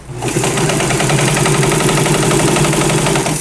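A sewing machine stitches fabric for a custom dress form, a steady close and loud motor whir with a rapid, even needle rhythm running without pause.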